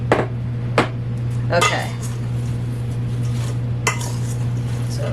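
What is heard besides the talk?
apple slices being transferred into a bigger bowl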